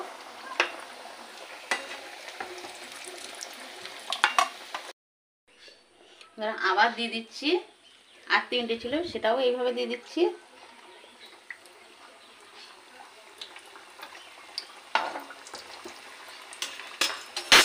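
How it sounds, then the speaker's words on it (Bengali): Samosas deep-frying in hot oil, a steady broadband sizzle running through, broken by a brief pause, with a voice talking over the middle stretch. "এইভাবে সবগুলো ভাজা করে নেব"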